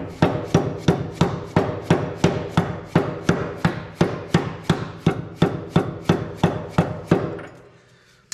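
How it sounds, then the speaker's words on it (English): A socket is lightly tapped with a hammer to drive a blade seal into a Walker mower gearbox: about seventeen sharp, evenly spaced knocks in a steady rhythm, close and clear, stopping near the end. "I'm gonna finish it off with this socket here. I'm gonna lightly tap on it."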